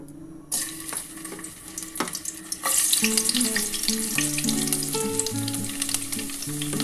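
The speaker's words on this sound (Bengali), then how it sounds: "কড়াটা আমার গরম হয়ে গেছে এর মধ্যে আমি রসুন ফোড়ন দেবো" Garlic hits hot oil in a wok while tempering for a lentil dal, setting off a bright, steady sizzle that jumps louder after a couple of seconds and crackles on close by.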